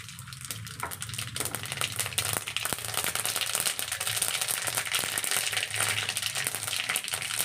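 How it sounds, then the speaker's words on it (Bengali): Black mustard seeds dropped into hot oil, a dense crackling, spitting sizzle that builds and holds steady, close up with scattered sharp pops, no voices. "এবারে এই তেলের ভেতরে দিয়ে দেবো কালো সর্ষে,"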